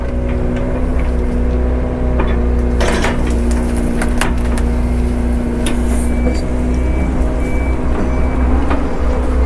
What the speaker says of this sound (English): so I can back the truck way up there in the yard